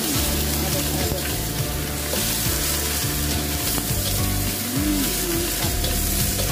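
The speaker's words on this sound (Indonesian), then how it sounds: "Masukin ayamnya ya teman-teman ya. Langsung aduk-aduk." Chicken pieces tossed into a hot pan for a black pepper chicken dish sizzle and fry steadily, with the scrape and clatter of stirring running throughout, loud and close, while a voice hums faintly underneath.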